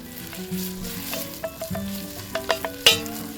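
Onions and garlic sizzling in a hot pot at a campsite, with a steady crackle, sharper pops and clinks from stirring.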